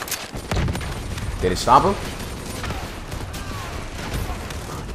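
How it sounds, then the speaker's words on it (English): Sustained gunfire and bursts in Call of Duty Black Ops 3 during an Egypt battle, with a louder blast midway and someone speaking briefly over the shooting. "I have to keep constantly shooting with the bullets."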